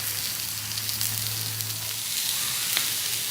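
Beef sizzling on a hot grill for a Philly beef sandwich, a steady close hiss with a low hum beneath and a faint clack as the meat is turned, no voices.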